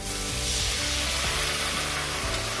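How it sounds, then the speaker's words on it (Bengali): Spice masala with slit green chillies sizzles and is stirred hard in a pan for Bengali muri ghonto, a loud steady frying hiss with rough scraping underneath and no voices. "এবার সব কিছু খুব ভালো করে কষবো।"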